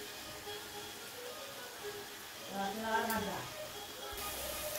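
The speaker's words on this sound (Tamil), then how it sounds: "கொதிக்க ஆரம்பிச்சிருச்சு" Coffee powder in water coming to a boil in a pot, a soft bubbling hiss that swells in the middle and stays faint and steady throughout.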